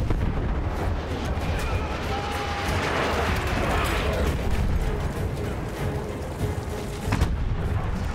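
Gunfire in the World War I shooter Battlefield 1, a steady rumble of heavy shots and booming volleys, with a sharp blast near the end and a faint voice underneath.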